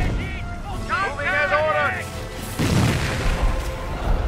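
SD-2 butterfly bombs detonate in Company of Heroes on the Oosterbeek map, a rumbling boom rolling out halfway through after a soldier's voice line, with further blasts continuing underneath.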